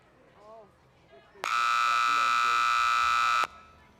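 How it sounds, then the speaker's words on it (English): A loud, harsh electronic timer buzzer at a cattle dog trial blares continuously for about two seconds, cutting through quiet talk from people nearby before and after. "There goes that buzzer again."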